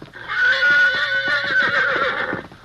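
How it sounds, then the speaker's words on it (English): A horse whinnies loudly and close as it is set loose, one long shaky neigh with a quavering pitch, followed by faint hoof clatter and no talking. "Go on, Red Horse. Run yourself back to the hills"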